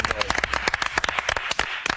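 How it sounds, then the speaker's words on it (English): A small studio group claps in a quick, scattered round of applause after a 2-0 Arsenal win over Watford; sharp, uneven claps sit close and loud beside background chatter. "give ourselves a round of applause"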